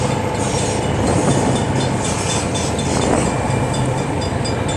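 A long freight train rolls past close by, a loud continuous roar of wagons with rhythmic clickety-clack and occasional wheel squeal, unbroken for the whole stretch.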